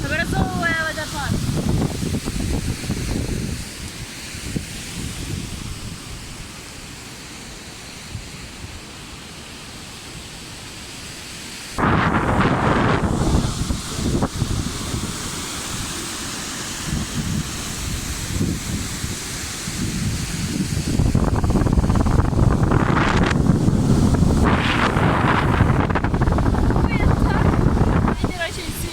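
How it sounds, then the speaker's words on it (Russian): Strong wind buffets the microphone beside a snowy riverbank waterfall near Füssen in Bavaria, loud roaring gusts that rise and fall over half a minute, with a rushing, rain-like wash and a voice speaking at times. "Ветер очень сильный."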